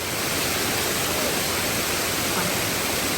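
Waterfall at a restaurant in Kaghan, Pakistan, pouring as a dense, constant broadband rush of water, close and loud throughout.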